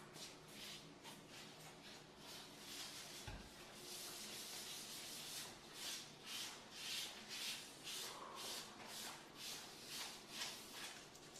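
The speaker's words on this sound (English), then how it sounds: "Seal the island again, applying liberal amount, rubbing it into the edges," Sealer being rubbed by hand into a granite countertop island and its edges, giving a steady, close scrubbing and wiping sound with repeated strokes throughout, no talk.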